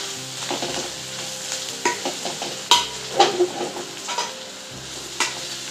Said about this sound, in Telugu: అల్లం పేస్ట్ ఇవి కొంచెం ఆయిల్లో ఇవి కూడా ఫ్రై కానివ్వాలి రొయ్యలతో పాటు ఇలా కలిపేసి